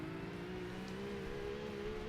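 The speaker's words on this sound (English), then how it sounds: "I think this car is an inline 6 as well." A car with an inline-six engine in Forza Motorsport drones at high revs with a steady, slowly rising engine tone, continuous and close.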